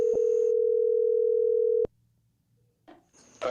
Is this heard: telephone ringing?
yes